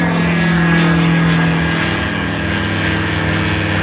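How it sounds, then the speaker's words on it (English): A light aircraft with a Rotax engine and a DUC propeller flies on a test flight, giving a loud, steady propeller drone with a strong low hum and buzzing harmonics that hold even and close throughout. "nice quiet Duke propeller."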